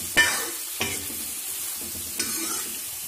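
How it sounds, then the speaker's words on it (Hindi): Turmeric powder being stirred into hot frying oil in a pan for pumpkin sabzi, a soft steady sizzle broken by three sharp scrapes of a spoon against the pan, with no one talking. "हल्दी को जो है अच्छे से मिक्स कर दें।"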